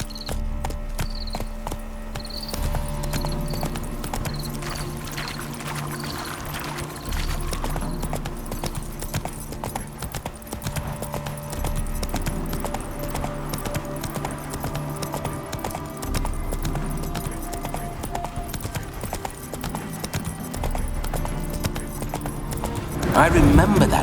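Rhythmic clip-clop of horse hooves trotting steadily in the video game The Witcher 3: Hearts of Stone, with a horse whinnying and voices talking over it.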